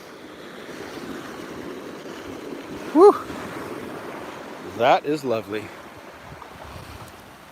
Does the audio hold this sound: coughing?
no